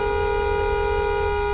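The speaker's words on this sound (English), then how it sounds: "let me just honk at her so she can hear" A car horn blares in one steady, sustained honk, loud and close, holding an unbroken tone throughout with no speech.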